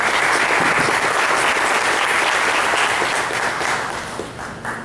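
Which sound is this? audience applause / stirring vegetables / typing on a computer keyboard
audience applause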